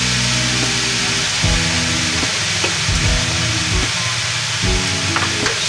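Soy sauce hits a hot frying pan and sizzles loudly and steadily, with a few low clanks and scrapes of a utensil against the pan breaking through the hiss; no voice is heard.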